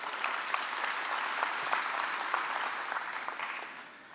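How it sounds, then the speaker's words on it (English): A conference audience at a national transport event breaks into dense, steady applause, many hands clapping at once and filling the hall, tapering slightly toward the end. "So for that, a big round of applause."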